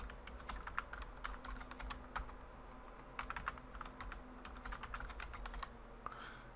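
Someone types a password on a computer keyboard while configuring SNMP, producing quiet, close bursts of rapid key taps separated by short pauses.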